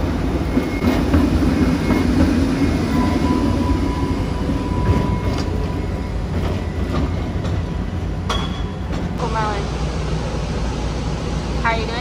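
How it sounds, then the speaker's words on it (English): A New Orleans streetcar rolls along with steady rail rumble and wheel clatter, loud and continuous, and a brief metallic squeal rings out near the end. "The whole streetcar to ourselves."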